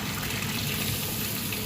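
Water poured into a pot of lentils and potatoes, a brief steady splashing gush heard close and alone.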